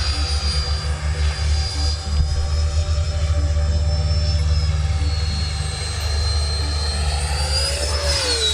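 An FMS Rafale RC jet flies overhead with a steady loud electric ducted-fan whine and drone that shifts in pitch as it passes, continuous and fairly near.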